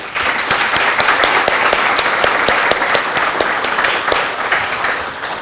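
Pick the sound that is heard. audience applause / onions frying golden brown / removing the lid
audience applause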